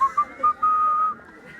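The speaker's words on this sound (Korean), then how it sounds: "여러분 지금부터 휘파람을 한번 불어보세요." Lecture audience members whistle on cue in a hall: a few short chirpy notes, then one long sustained whistled tone, clear and close with no talking.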